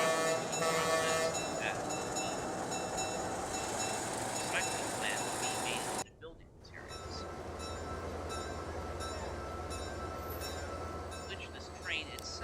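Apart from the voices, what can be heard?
train in Transport Fever 2 video game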